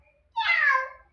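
A child mimics a cat with a single drawn-out, high, wavering meow, close and clear, lasting under a second against near silence.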